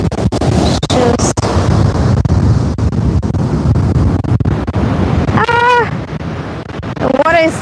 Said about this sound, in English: Oh my goodness, look at the big waves